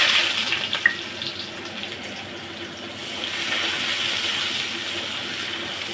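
Cooking oil pouring into a hot pan in a home kitchen, a steady hissing, watery rush that holds for several seconds at moderate loudness, swelling slightly near the end, with no talking.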